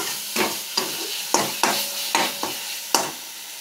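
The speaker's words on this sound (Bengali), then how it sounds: "এবার মশলাটা একটু কষিয়ে নিই ভালো করে।" Masala spices stir-fried in hot oil for Bengali egg curry, a soft sizzle broken by about seven scraping spatula strokes in an uneven rhythm, close and moderately loud, with no talking.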